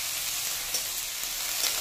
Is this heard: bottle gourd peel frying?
yes